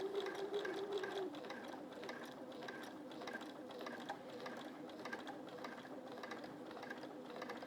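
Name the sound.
domestic sewing machine stitching a quilt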